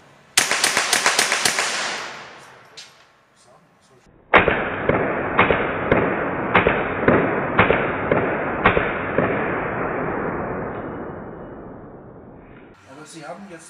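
A Baikal MP161-K rifle is fired at a shooting range: a rapid burst of sharp reports, then a pause and a steady, evenly spaced string of loud, ringing shots with long reverberant tails.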